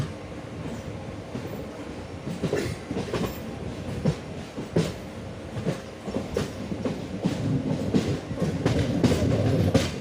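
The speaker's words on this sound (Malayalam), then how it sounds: "ട്രെയിൻ കോട്ടയം ഭാഗത്തേക്ക് തിരിയുകയാണ്" A train rumbles along the track close by between Kollam and Kayamkulam in Kerala, its wheels clattering in an uneven rhythm of clicks and thuds that grows louder toward the end.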